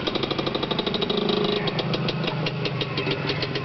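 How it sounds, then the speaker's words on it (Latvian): A motorcycle engine running steadily nearby, its fast even firing pulses giving a rough, continuous chugging drone with no voices over it. "ar savu mocīti brauc"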